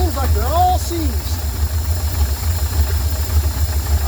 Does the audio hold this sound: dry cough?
no